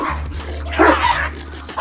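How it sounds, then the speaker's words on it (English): A large dog barks once at a distance, a short rough burst rising over a steady low hum and faint background noise. "There's a huge dog back over there"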